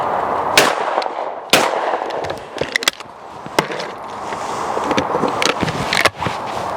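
A Browning XS shotgun fires at clay targets outdoors, about six loud, sharp shots coming roughly in pairs with short gaps between them, each blast trailing into a brief echo.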